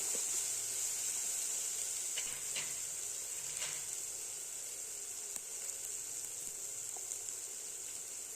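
Carrots and beans sauté in a pan, giving a quiet, steady sizzle and hiss throughout, with a few faint stirring scrapes.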